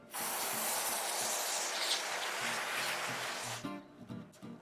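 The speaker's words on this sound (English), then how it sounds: "So I've got my can, I simply put the straw in, and now I spray." An aerosol freeze spray can with a straw nozzle blasts into a gum paste lace mold, a loud continuous hiss lasting about three and a half seconds before cutting off to quiet handling noises.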